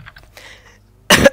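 A single sharp, loud cough bursts out close to the mic after a stretch of faint murmuring background sound.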